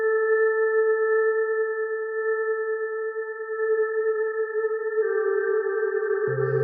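A sustained, smooth synthesizer pad from the Gradient Synth iOS app holds a soft chord, then shifts to a new chord with a deep bass note entering, washed in spacious reverb.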